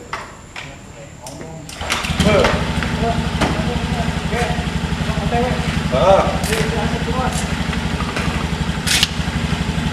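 A car engine idles steadily while warming up, a continuous low rumble that starts after a few seconds of clatter and holds at an even level, with people talking over it.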